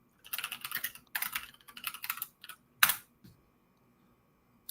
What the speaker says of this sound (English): we would do git commit, and then type with the M argument, which gives it some type of message